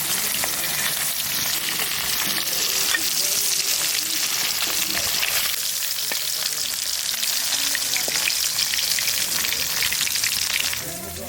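Pieces of man kochu frying in oil in a pan for a Bengali prawn curry, a loud, steady, close sizzle with faint stirring crackles throughout, easing slightly at the very end.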